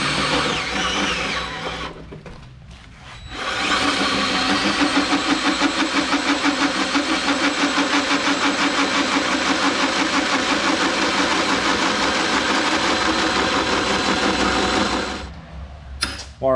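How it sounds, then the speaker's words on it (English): A drill with a Harbor Freight hole saw bit cuts a hole for an upper control arm on an offroad buggy build. The motor whines and the bit grinds loudly and steadily for about twelve seconds, with short bursts before and after. "our Harbor Freight hole saw bit and managed to lose all its teeth on one cut"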